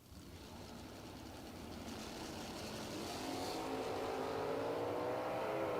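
Drag racing cars, a Saturn chasing a Firebird Trans Am down the strip, roar steadily louder with a rising engine note, the broadband noise building to a sustained loud pass.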